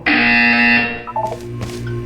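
An electronic buzzer in the video game Portal 2 sounds loud and sustained for about a second, then cuts off into a few brief clicks and a low humming tone.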